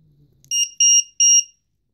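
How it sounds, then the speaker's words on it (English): Three loud, sharp electronic beeps in quick succession as a Robocat 270 is plugged in, the first short and the next two longer, with a faint low hum before them. "Plug it in, loud beep."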